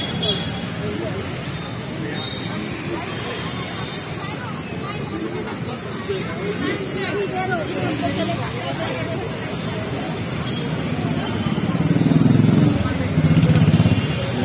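Crowded New Road market street in Nepal in late afternoon, with a steady dense hubbub of voices and motorcycle and vehicle engines throughout, swelling louder near the end as a motor passes close by.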